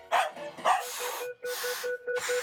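A dog barking close by, two or three sharp yaps at the start followed by a string of short high whining yips in quick succession.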